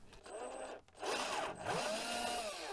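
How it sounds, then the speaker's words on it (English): A power drill whirs in two short bursts separated by a brief pause, close by and fairly loud, with its pitch wavering as it bores through plastic. "Okay, so this is where your drill comes in."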